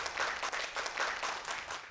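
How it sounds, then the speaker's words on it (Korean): A studio audience applauds to welcome a guest onto a Korean talk show, the dense clapping steady and close for the whole stretch, with no voices above it. "큰 박수로 맞이해 주세요"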